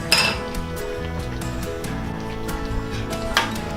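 Beef kaldereta with carrots and potatoes gets stirred in a pot, giving a few sharp metal clinks of the spoon against the pot over steady background music.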